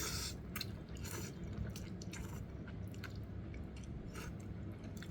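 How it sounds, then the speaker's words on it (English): Someone chews a mouthful of Jinjja kimchi instant ramen noodles up close and quietly, with soft, wet, squishy bites and occasional slurpy smacks over faint background noise. "let me give it one more bite."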